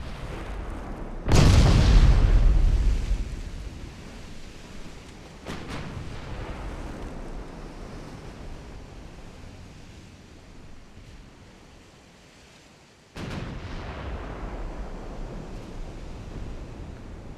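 Naval gunfire and shell hits in Ultimate Admiral: Dreadnoughts, a 1904 French campaign battle against British cruisers: a loud booming salvo followed by a long rumbling decay, a fainter thud, then another sharp boom over steady ocean-like wash.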